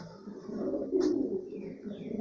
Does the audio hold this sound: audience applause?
no